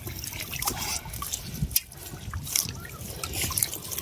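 Water splashes and trickles steadily onto freshly caught fish outdoors, a close, continuous liquid pour with small drips and splashes.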